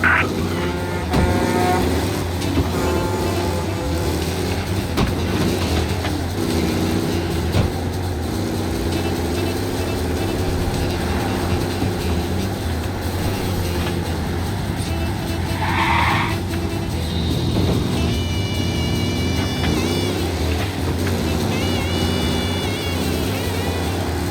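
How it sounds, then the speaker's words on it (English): Race car tearing through city streets in Mafia Definitive Edition, with a continuous roaring engine and repeated squealing tire skids over about twenty-four seconds, close and loud. "Officers reporting a race car driving at speed through the city."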